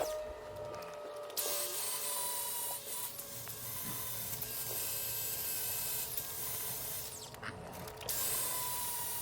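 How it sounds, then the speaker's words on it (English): An angle grinder works over metal for a garage storage rack, giving a quiet, continuous abrasive hiss with a thin whine. The sound cuts out briefly near the start and again near the end. "here I am cleaning things up with the grinder, making sure it's nice and flat and smooth."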